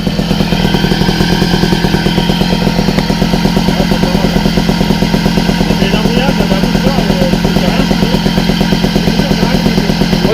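Custom motorcycle engine with a strip cup, loud steady rhythmic idling throb close by, with people talking over it throughout.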